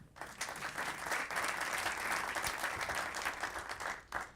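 Sustained audience applause welcoming a panel speaker at a health care reform business seminar, a dense steady wash of many hands clapping for about four seconds, tapering briefly near the end before a final burst.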